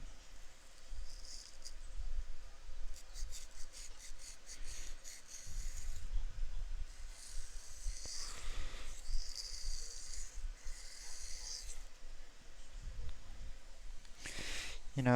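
Tip of a Spyderco Para 3 knife blade drawn across a sharpening stone in short, quiet rasping strokes, close and soft, with someone talking intermittently over it.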